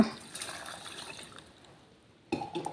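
Water pours and splashes briefly, fades to quiet, then resumes with a louder gush near the end.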